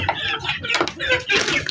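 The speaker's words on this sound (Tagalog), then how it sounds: "Dito ngayon magpatoka tayo ng manok." Backyard chickens clucking and squawking at feeding time, close by in a series of busy, overlapping bursts, with a voice talking faintly underneath.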